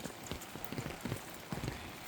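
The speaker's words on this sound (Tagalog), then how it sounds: "ang lakas ng ulan" Heavy summer rain at a home in South Korea, a faint, steady patter over a hiss, with irregular soft drips and thuds close by and no talking.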